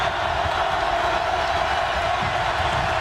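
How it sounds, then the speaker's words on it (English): Basketball arena crowd at a 2006 Big 12 college game, Kansas at Oklahoma State, a steady broad roar of cheering and noise filling the hall, continuous and fairly loud with no distinct voices. "And Ron, listen to the crowd."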